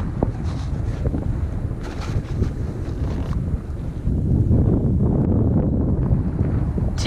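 Strong wind buffets a nearby microphone on Lake St. Clair, a low, rumbling roar that swells louder partway through, no voices.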